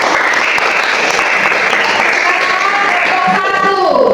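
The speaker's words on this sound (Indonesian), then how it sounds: "Tepuk tangan dulu untuk kelompok 3." Audience applause for a presenting group at a teacher training session, a steady, dense clatter of many hands clapping close by, sustained loud through the whole stretch with some voices faintly mixed in.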